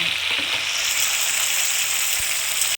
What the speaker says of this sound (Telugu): ఫ్రై అయిన తర్వాత మనము ఆ ప్రాన్స్ వేసుకోవాలి